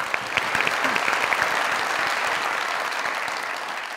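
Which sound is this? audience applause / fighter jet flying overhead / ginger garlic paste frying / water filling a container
audience applause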